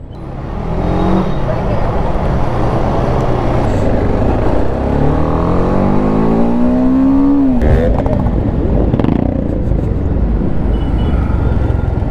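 BMW G310R and other motorcycle engines rev and rise in pitch over a busy crowd din at India Bike Week in Goa, one passing close and loud before pulling away, with voices throughout.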